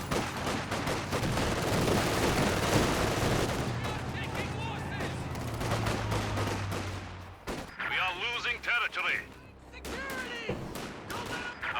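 Dense rifle fire from a full squad of infantry riflemen in the real-time strategy game Company of Heroes 2, with sharp overlapping gunshots and explosions in a constant loud battle din, sparser bursts toward the end.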